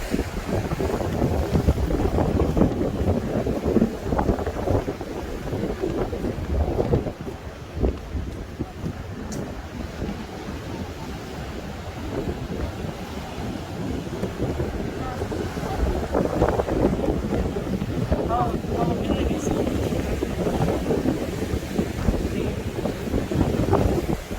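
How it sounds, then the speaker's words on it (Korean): Ocean waves wash and surge steadily beside a lighthouse, heard from a seaside observation deck as a continuous broad rushing roar mixed with strong wind buffeting the microphone, with occasional speech. "파도 소리도 시원합니다"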